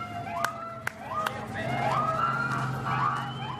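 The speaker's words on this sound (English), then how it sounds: "With sirens of support for what Steele has overcome." Sirens from a parade of vehicles wail and yelp in rising and falling sweeps, several overlapping, with a few short horn blasts and faint voices nearby.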